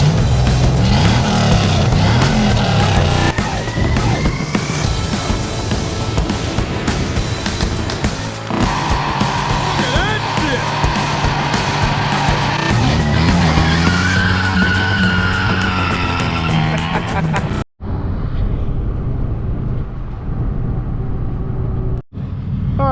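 An old police cruiser's engine revs hard and rowdily, loud and close. It roars almost continuously, drops out briefly twice and then thins out toward the end.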